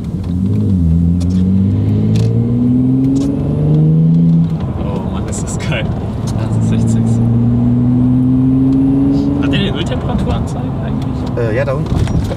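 An Audi RS4 engine revs hard, with loud, rising and falling throaty tones and a deep rumble that swell and settle across repeated pulls, while people talk over the noise.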